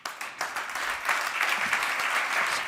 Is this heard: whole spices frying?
no